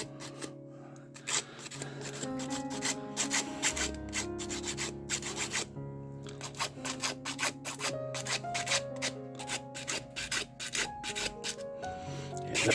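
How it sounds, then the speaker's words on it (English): Close, steady scratchy rubbing as yellow paint is scuffed off a small metal toy car, continuous abrasive strokes with faint music-like tonal sounds underneath. "So first I want to scuff it a little bit."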